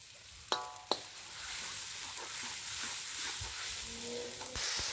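Whole king quails deep-frying in hot oil in a home kitchen give a steady, dense sizzle with a couple of sharp clinks and some bubbling, close and continuous with no talk.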